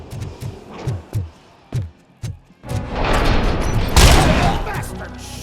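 Gunfire in the video game Robocop Rogue City: a string of evenly spaced heavy shots, then a dense, loud barrage of overlapping fire and impacts swelling to a peak near the end.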